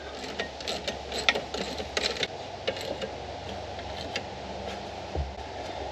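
A ratchet tightens the long main bolt on a Subaru alternator with quick, faint, close clicks in short irregular runs and little other sound.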